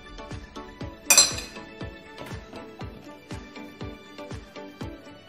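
A teaspoon tapping against a bowl while apple cake batter is mixed, a steady rhythm of light metallic clinks, close and clear, with one sharper ringing knock near the start.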